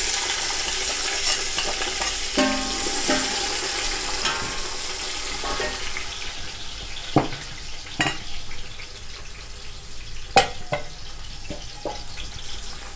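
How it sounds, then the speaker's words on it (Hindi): Garlic and ginger fry in oil in a pot for vegetable pulao, giving a continuous hiss with sharp spoon clinks and scrapes against the metal at irregular intervals, close by and without talk. "इसको आपने भून लेना कलर चेंज होने तक"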